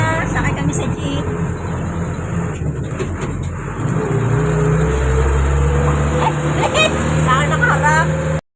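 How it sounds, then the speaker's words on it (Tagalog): A jeep on a rain-soaked climb in Tagaytay City runs with a constant low, heavy engine rumble up close. The drone pitches up slightly partway through, and voices talk beneath it before it cuts off abruptly. "Sakay kami sa jeep."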